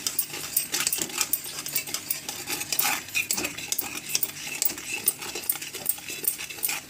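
Spice mix for an instant red chili pickle is stirred with a spoon against a metal vessel, a busy run of close clinks and scrapes without talking.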